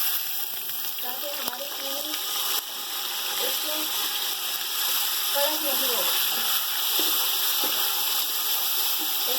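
A cup of water is poured into a hot cooking pot of sugar while making zarda, sweet yellow rice, giving a continuous hiss and sizzle that runs under a woman's speech.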